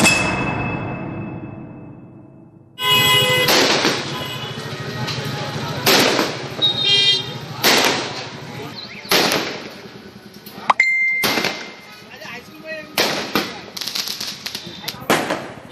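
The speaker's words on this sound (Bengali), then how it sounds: "দেদার ফাটছে বাজি।" Firecrackers and fireworks go off near a hospital compound at a wedding, a series of loud, sharp blasts with ringing tails at irregular intervals. A steady tone fades out before the bursts begin.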